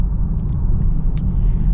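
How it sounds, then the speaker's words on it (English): A 2022 Kia Stinger with a twin-turbo 3.3-liter V6, heard from inside over a rough road as a loud, steady low rumble of engine and tires, with a few faint light knocks above it. "going over this little rough road here"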